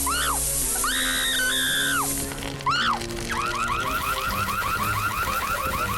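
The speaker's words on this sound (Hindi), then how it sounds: "फायर अलार्म ने अपना कमाल दिखा दिया।" A fire alarm going off, a loud electronic wail that sweeps up and down in repeating tones, then switches to a faster warbling pattern, with nothing else heard over it.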